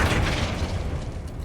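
A Flipendo spell cast in Hogwarts Legacy bursts out as a deep, booming thump with a rumbling tail, heard close and alone for about a second and a half.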